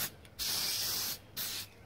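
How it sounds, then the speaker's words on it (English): Two bursts of contact adhesive spraying from an aerosol can, a longer one followed by a shorter one, close and steady with quiet gaps between. "So I'll just spray a bit on each one."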